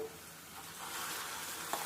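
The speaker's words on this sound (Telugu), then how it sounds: "మనం ముందుగా మిక్సీ పట్టుకున్న పచ్చడి తాలింపులో వేసేసుకుందాం" Ground brinjal chutney goes into a hot tempering, producing a soft, quiet sizzle that swells slightly midway and ends with a small clink, with no talking.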